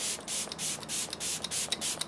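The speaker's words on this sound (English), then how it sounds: "we need more setting spray." Makeup setting spray mists from a pump bottle in about eight quick, evenly spaced hissing bursts, close and clear with nothing else heard.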